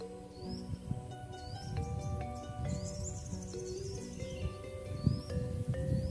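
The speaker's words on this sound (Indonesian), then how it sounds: "Suara burung, suara ayam, komplit sahabat." Birds chirp and call over a busy outdoor backdrop in a rural village garden, with a chicken's call mixed into the steady rustle and distant chatter.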